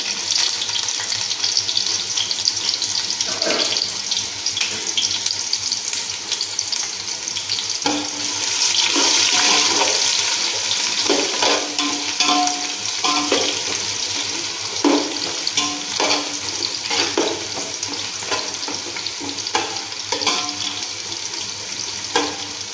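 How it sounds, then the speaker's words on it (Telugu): Chopped onion and green chilli pieces frying in hot oil, a steady close crackling sizzle with scraping stir strokes throughout and a brief running-tap splash in the middle, no voices. "ఉల్లిపాయ ముక్కలు పచ్చిమిరకాయ ముక్కలు వేసేసి వేసుకుందాం"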